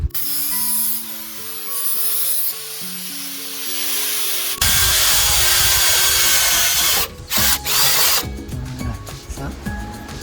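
Power drill driving screws into a homemade support inside a van, with whirring bursts of varying pitch, then a harsher loud grinding stretch broken by short pauses, close by.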